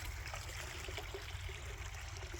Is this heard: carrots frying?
no